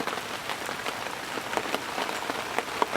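Steady rain patters on a surface outdoors beside a lake with reeds, a dense, even hiss of drops with occasional louder splats, no voices.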